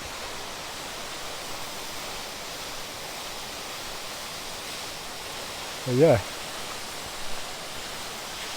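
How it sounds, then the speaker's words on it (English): A waterfall on the Pennine Way between Hawes and Keld, an unbroken 100-foot fall over shale, sandstone and limestone, gives a steady, even rush of water, broken only by a brief spoken word. "it claims to be the highest continuous waterfall, or unbroken, should I say? So unbroken fall of water"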